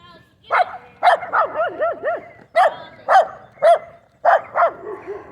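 A small, fluffy dog in a survival exploration video game barks and yelps loudly and close up in irregular bursts of two or three, with whiny rising-falling cries between them.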